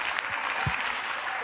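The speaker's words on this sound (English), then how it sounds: "What are you clapping for?" A studio audience on a daytime talk show breaks into steady, dense applause, a continuous wash of clapping that holds at even loudness throughout with no voices standing out.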